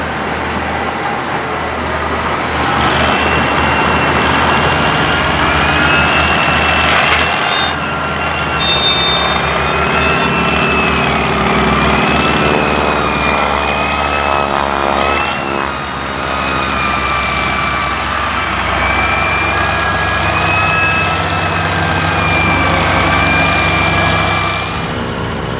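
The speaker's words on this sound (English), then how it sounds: "When the hopper is full, the bulldozer reverses into position, ready for the next pass." Bulldozer and scraper moving soil to build an armoured-vehicle obstacle course: a loud, continuous diesel engine drone with a whining mechanical tone, steady throughout with slight surges.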